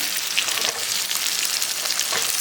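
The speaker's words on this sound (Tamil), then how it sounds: "பூண்டை வதக்கும் போதே நம்ம வெங்காயத்தையும் ஆட் பண்ணிடலாம்" Garlic and onion sautéing in a pan, giving a close, continuous crackling sizzle with light stirring scrapes and no voices.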